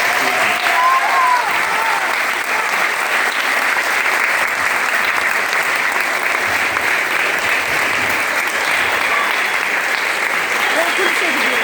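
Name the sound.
audience applause for children at a stage performance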